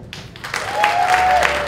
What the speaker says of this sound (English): by round of applause, who are the married people?